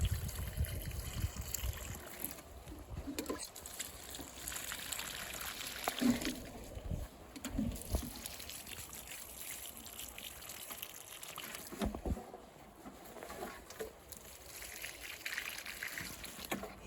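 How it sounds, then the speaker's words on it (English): Water trickling and splashing as pepper plants, including ghost peppers, are watered outdoors before a storm; soft, uneven dribbling with a few louder splashes and thumps, fairly quiet and close. "Let's just get them all watered."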